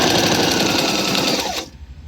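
A Singer 1304 sewing machine runs steadily while stitching large stitches, a loud, close, even mechanical whir that stops abruptly near the end.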